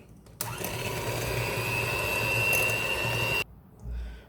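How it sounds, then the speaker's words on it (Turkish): An electric mixer whisks eggs and sugar in a bowl for an apricot and walnut cake, a steady high motor whine running about three seconds before cutting off abruptly. "rengi açılana kadar çırpıyorum"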